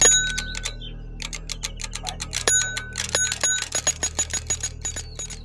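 A bicycle bell rings again and again in quick, bright metallic dings, close and loud, with a low hum underneath and no voices.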